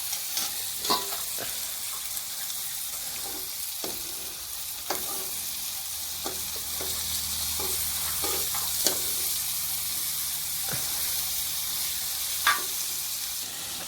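Cluster beans sizzling as they fry in oil in a pan, a steady low crackle and hiss with occasional stirring clinks and spatters, close and continuous with no talking.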